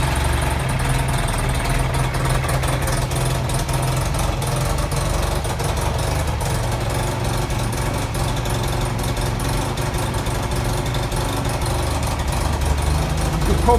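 A small engine runs on half choke at a steady idle, with a constant, even low rumble that holds loud and close throughout, without changes in speed.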